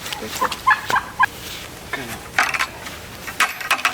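Farm turkeys gobble in winter in quick, rattling bursts, several calls overlapping close by, with short pauses between outbreaks.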